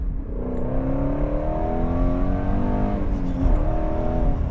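A 2017 Ford Mustang GT350 engine revs loud and close as the driver downshifts to second, the pitch sweeping up and holding in a rising snarl, then dipping and climbing again near the end.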